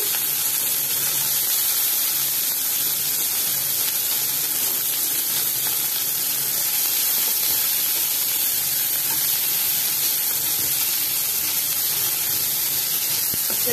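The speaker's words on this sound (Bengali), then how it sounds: "এবার আমি কাটা পেঁয়াজগুলো দিয়ে দিচ্ছি।" Chopped onions frying in a pan for a pomfret fish dish, giving a steady, close hiss and sizzle that holds evenly throughout without pause.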